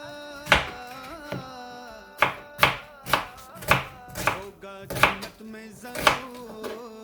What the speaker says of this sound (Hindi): अब आप इसको प्याज को पहले काट लेंगे सारा